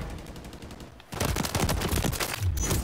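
Renetti pistol firing in Modern Warfare 3 on the Favela Hardpoint map: a quieter stretch of distant shots, then from about a second in a dense, loud run of rapid automatic bursts that keeps going to the end.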